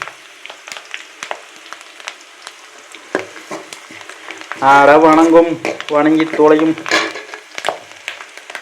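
Food crackles and spatters in a hot frying pan with sharp scattered pops as tomatoes burst, while a person speaks over the sizzling in the middle.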